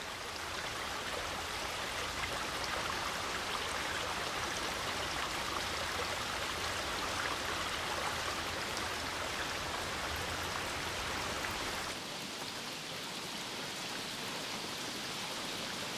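Heavy rain falls on large leaves in a continuous dense rush of close patter, easing slightly toward the end, with no voices.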